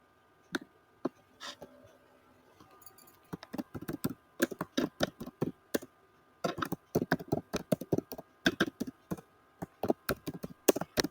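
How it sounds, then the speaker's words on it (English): Keys clatter on a computer keyboard in uneven bursts of quick clicks separated by short pauses, close and fairly crisp with no talking. "Now you can type whatever you want to."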